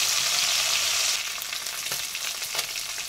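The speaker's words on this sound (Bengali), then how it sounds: "এইভাবে মাছগুলোকে ভেজে নেব" Bata fish pieces fry in hot oil with a steady, loud, broadband sizzle that softens slightly partway through, with a few faint crackles and pops and no talking.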